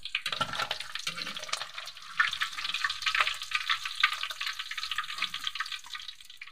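Fish frying in a pan of hot oil, a steady dense sizzle with crackling spits and pops, close and continuous throughout with no talking.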